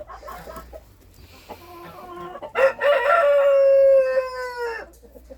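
Australorp hens cluck softly nearby, then a rooster lets out one loud, drawn-out crow close by before the clucking resumes.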